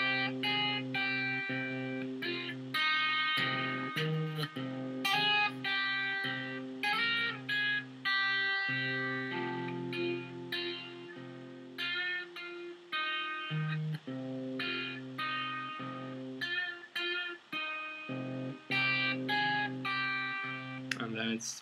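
Electric guitar playing the riff slowly, with distinct picked notes and short choppy phrases in a repeating pattern, close and clear, with the player's voice occasionally audible underneath.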